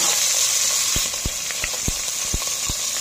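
Desi chicken fries in desi ghee in a pan, giving a steady, close sizzle that runs the whole time, broken by a few sharp pops and crackles.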